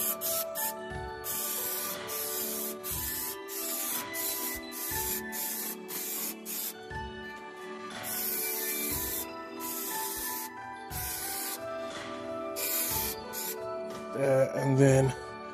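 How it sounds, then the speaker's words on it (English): Repeated bursts of aerosol spray hiss onto a car's front interior being wrapped in crushed velvet fabric, short and broadband, starting and stopping in an irregular rhythm, close to the microphone with faint background sounds. "So I'm going to go ahead and get the spray."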